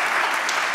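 Dense applause from a crowd at a Women in Government panel event, a brief, continuous wash of many hands clapping without any voices.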